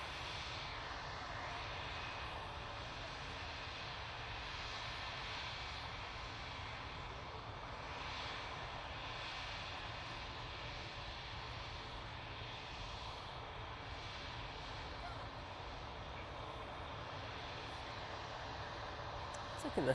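An airliner departs Manchester Airport bound for Paris Charles de Gaulle, its engines making a steady, broad roar that holds at a fairly even level with no clear speech over it.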